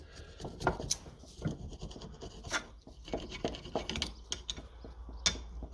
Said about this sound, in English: Scrape off the old gasket.